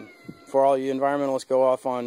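A domestic cat meows loudly and close, a run of drawn-out, insistent cries in quick succession, heard over someone talking in a backyard while he describes materials for building a raised garden bed.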